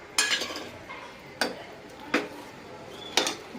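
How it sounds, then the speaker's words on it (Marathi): A spoon knocking against a pot while mixing cooked rice and dal into sambar, four distinct metallic taps spaced out irregularly over a quiet room background. "टाकले की छान मस्तपैकी मिक्स करा"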